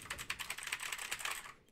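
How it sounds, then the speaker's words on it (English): Quick, light keystrokes patter on a computer keyboard in a fast irregular rhythm, close and fairly quiet, with no talking. "I need to figure out how to get rid of keyboard sound."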